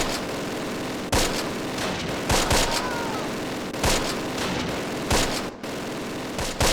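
Machine gun fire in Close Combat, a classic WWII strategy game, comes as repeated short bursts spread across the clip over a constant battlefield rumble.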